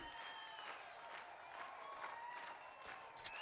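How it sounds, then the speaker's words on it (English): A video game crowd cheers and applauds for an encore, a steady wash of clapping with rising cheers, fairly faint and distant. "The crowd is going nuts."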